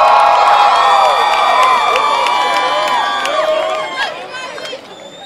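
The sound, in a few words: graduation audience cheering for graduates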